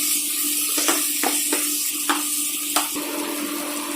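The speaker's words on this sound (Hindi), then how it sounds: "ग्रेवी तैयार हो गया है, इसमें हम पानी डालेंगे।" Continuous loud sizzling and bubbling as about a glass of water hits hot paneer pasanda gravy, with a few soft clatters of stirring breaking through the hiss.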